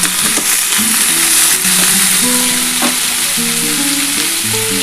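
Tomato and green chili frying in a potato curry, a loud, close sizzle with stirring scrapes and clinking utensil taps over a continuous hiss.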